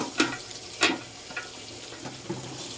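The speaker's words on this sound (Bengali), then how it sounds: "এখন চাল দিয়ে দেব।" Rice hitting hot oil with fried onions for white pulao, giving a steady sizzle broken by a few sharp stirring scrapes in the pan.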